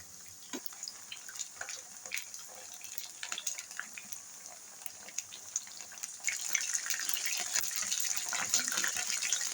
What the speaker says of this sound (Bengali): এখন আমি একটা কাঁটা চামচ দিয়ে চিকেনগুলো একটু উল্টিয়ে পাল্টিয়ে দিচ্ছি।